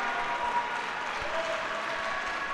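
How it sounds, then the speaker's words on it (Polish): Applause from spectators in an indoor sports hall after a goal in a futsal match, a steady wash of clapping heard from a distance at moderate level, without speech. "No, zasłużone brawa teraz dla Mariusza Raczkowskiego."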